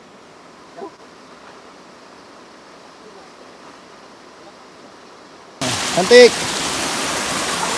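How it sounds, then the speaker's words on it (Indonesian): A small waterfall spills into a pool on a hiking trail at Bukit Kembara, Ampang; a faint hiss suddenly gives way to loud, close rushing water, with a person speaking briefly over it. "Ini ada waterfall kecil, di bawah dia ada pool."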